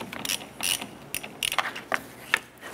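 A ratchet with a 13 mm socket loosening the ground terminal nut on a 1993-1997 Ford Ranger battery, heard as close, sharp bursts of rapid clicking separated by short pauses, no talking.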